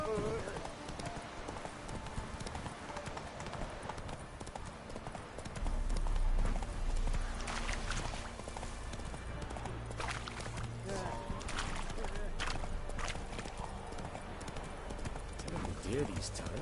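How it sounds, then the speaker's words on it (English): Horse hooves clip-clop steadily in The Witcher 3 as the horse walks and then picks up pace, a continuous rhythmic patter under game music, ambient sound and a man's speech. "Run, Roach."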